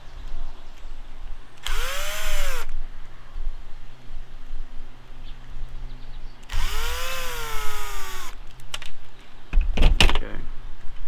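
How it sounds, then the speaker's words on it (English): A power screwdriver backs screws out of the cover of a CEN F450 drone, two distinct close whirring runs that rise and fall in pitch, each about a second long, followed by clicks and handling noises. "we can take this cover off. Oh, there's two more screws here."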